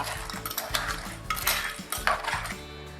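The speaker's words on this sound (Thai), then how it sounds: "คนส่วนผสมให้เข้ากันเลยค่ะ" A spoon stirs pounded pickled bamboo shoots and cockles together in a dish, with repeated clinks and scrapes of metal against the container in a quick, uneven rhythm; no one speaks.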